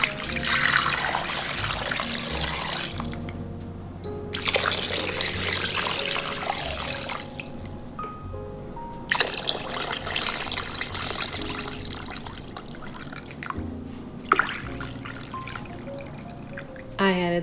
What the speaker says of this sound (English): Now we're going to fill the crock pot up with water up until about 1/2 inch from the inner rim.